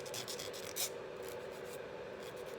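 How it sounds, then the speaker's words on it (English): A metal file rasps against the point of a piece of tin jewelry, a faint, close, steady scraping with a few brief stroke accents and no talking. "So I'll just take this metal file and round that out a little bit."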